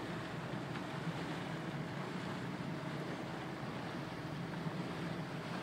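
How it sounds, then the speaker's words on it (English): A boat's diesel engine runs with a steady, unbroken rumble and wash, holding an even loudness throughout with no voices. "That's a diesel engine."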